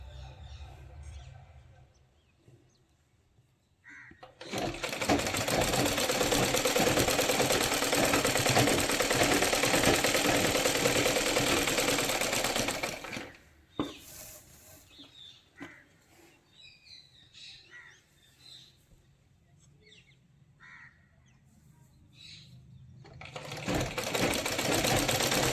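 A sewing machine stitches a Rajputi kalidar lehenga in two long, steady whirring runs, the first lasting several seconds and the second starting near the end, with a quiet pause between them where faint bird chirps can be heard.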